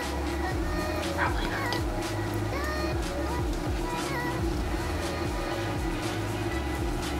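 A household dog keeps barking and whimpering in the background, repeated yips running under a person talking nearby.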